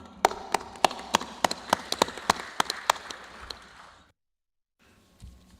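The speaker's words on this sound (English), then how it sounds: "I think a round of applause" Applause at a council meeting: a few sharp, well-spaced claps ring out over a low murmur for about four seconds, then stop abruptly into near silence before faint room noise and a soft thump.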